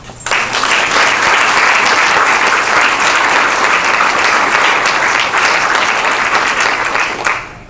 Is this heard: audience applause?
yes